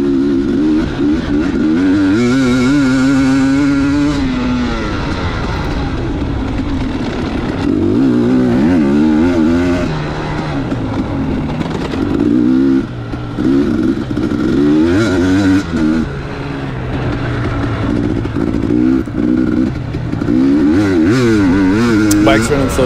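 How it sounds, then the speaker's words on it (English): A racing motorcycle on a test lap howls through repeated rises and drops in revs as it shifts and accelerates, loud and close throughout with brief dips, and a rider talks over the engine noise. "Bike's running so good though."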